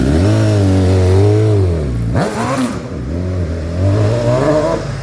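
A BMW motorcycle engine, a GS 1200 or S1000XR, revs up close and loud, rising and falling in pitch with a sharp throttle burst midway before settling back to a steady drone.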